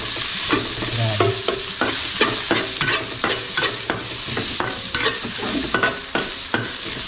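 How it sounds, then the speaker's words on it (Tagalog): Fresh onions hit a hot pan and fry with a bright, constant sizzle, broken by a steady series of sharp scraping stirs from a utensil against the pan, close and loud with no talking. "Ilagay na rin po natin ang ating fresh na sibuyas."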